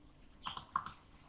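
A handful of quick keystrokes on a computer keyboard, close and quiet, tapped in a short burst with no speech.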